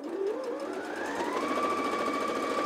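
A Janome JW8100 sewing machine stitches steadily up close, its rapid needle chatter running continuously while the motor whine climbs in pitch as it speeds up, with no talking.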